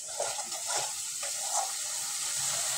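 Spice paste for pointed gourd dolma fries in a pan with a soft, steady sizzle, punctuated by a few stirring scrapes and gentle bubbling, heard close and fairly quiet.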